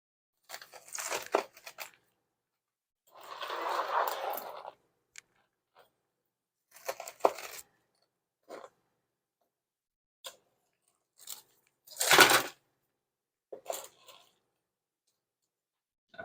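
A knife saws through a freshly baked focaccia loaf, producing scattered crackly crunches and tearing bursts of crisp crust, with one long rasping stroke and a loud sharp crunch, close up between quiet pauses.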